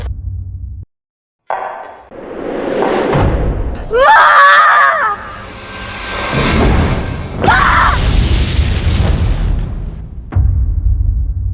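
A liquefied gas cylinder explodes in a drama sound effect: loud booms and crashing thuds come in several heavy bursts, mixed with screaming.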